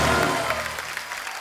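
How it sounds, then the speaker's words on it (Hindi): A studio audience at The Kapil Sharma Show applauds steadily, a dense wash of clapping that holds for a moment and then begins to thin. "एक बार रेमो सर, जैकी और टाइगर के लिए जोरदार तालियां।"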